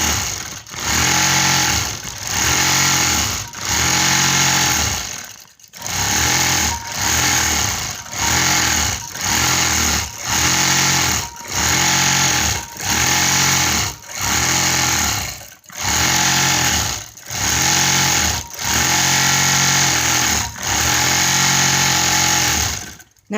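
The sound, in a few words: quilting machine stitching a feather pattern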